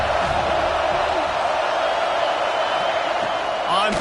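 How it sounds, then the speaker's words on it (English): Home crowd in the College Football 26 video game, a steady broad roar of cheering that swells slightly near the end, heard alone without talk. "Man, this crowd really affecting the football game."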